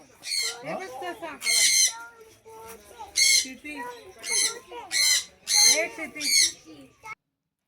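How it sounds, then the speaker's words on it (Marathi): Parrots in a large mesh-enclosed aviary give loud, harsh squawks in repeated bursts about every second, close by, with some chatter between calls. "ही पोपट"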